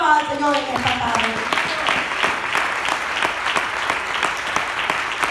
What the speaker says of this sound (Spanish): Dele palmas al Señor en esta tarde.